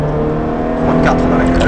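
A Ferrari race car's engine drones steadily from onboard on the Chinois des Bois track, loud and continuous as it picks up throttle after a left-hand bend.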